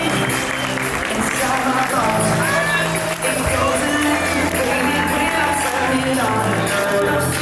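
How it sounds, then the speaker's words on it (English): Wedding guests applaud and cheer as the flower girls are introduced, continuous clapping and crowd noise mixed with music and an announcer's voice over a loudspeaker. "Round of applause, ladies and gentlemen."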